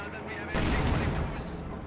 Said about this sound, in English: He's actually gonna level this house with his 4 Panzer IVs here.